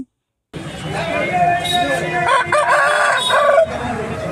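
After a moment of silence, a native country rooster crows loudly and close by, one long strained cock-a-doodle-doo stretching over several seconds, at a poultry market in Eluru.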